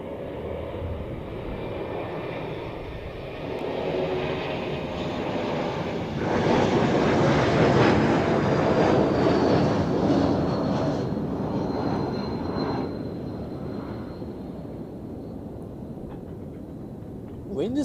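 A jet airliner roars past close by at Zurich Airport during a landing or takeoff, its engine noise swelling loudly through the middle and then easing off, with wind rushing steadily underneath.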